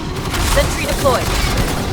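A deployed sentry gun fires a dense, continuous stream of shots in Aliens Fireteam Elite, loud and steady, with faint voices mixed into the din.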